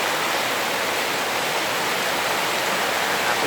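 Water pouring hard from a water spout during heavy rain: a loud, steady, hissing rush that stays even and continuous throughout, with no voices.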